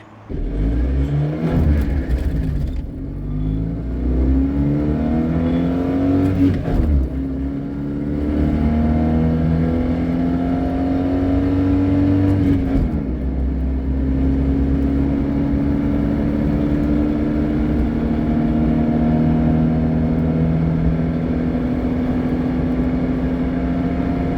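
A 1996 Fiat Cinquecento 700 with a 30 hp engine accelerating flat out in a 0-100 km/h run, its small engine droning and rising in pitch through several gear changes with brief dips, loud and close for over twenty seconds.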